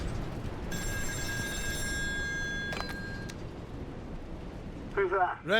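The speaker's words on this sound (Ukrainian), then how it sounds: "телефонний дзвінок." A telephone in the video game Still Wakes the Deep rings with a thin, electronic bell tone lasting a couple of seconds over a low rumbling background, and a voice begins at the end.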